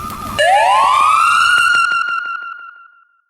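A single electronic siren sample played on a Roland SP-404MKII sampler wails, rising sharply and holding a steady tone before fading out, loud and alone.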